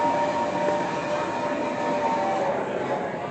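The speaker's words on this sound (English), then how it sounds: "Here comes our train." The Hogwarts Express train pulls into the station at Universal, a continuous low rumble and rolling hiss that holds steady at close range throughout.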